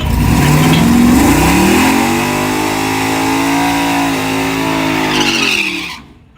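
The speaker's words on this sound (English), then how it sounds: "First gear burnout." A Lamborghini holds a first gear burnout, its engine screaming at high steady revs while the tires squeal, loud and close, before the roar drops away abruptly at the end.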